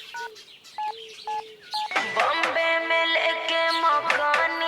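Telephone keypad dialing tones: a handful of separate, evenly spaced DTMF beeps, then a denser run of overlapping tones and ringing. All of it is clear and close, and no one speaks.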